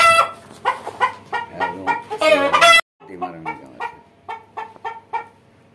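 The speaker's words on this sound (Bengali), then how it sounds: "টাইগার মুরগি অনেক বড় বড় হয়েছে" Tiger breed chickens on a poultry farm cluck in a steady series of sharp, close calls, busy and loud at first, then a short break followed by sparser clucking.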